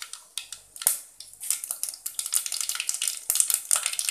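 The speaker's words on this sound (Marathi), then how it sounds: "मोहरी तडतडली की थोडेसे जिरे घालू" Mustard seeds crackle and pop in three large spoons of hot oil in a pot, making a dense run of sharp, close sizzling snaps that build and continue steadily throughout, with no voices.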